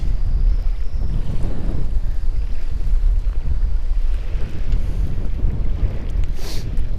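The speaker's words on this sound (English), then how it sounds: "It is fucking blowing." Strong gusting wind roars across a big lake during a kayak bass-fishing tournament, a loud, continuous low buffeting on the microphone with water slapping underneath throughout.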